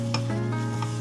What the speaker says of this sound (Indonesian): Aku mau menggoreng di 2 wajan aja biar cepat.